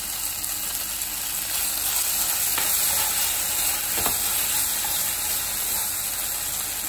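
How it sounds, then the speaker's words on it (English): Sautéed vegetables sizzle steadily in a pan after fresh tomato puree is added, making a constant close hiss with a couple of faint stirring knocks and no talking. "i'm mixing this also adding little tomato, fresh tomato puree"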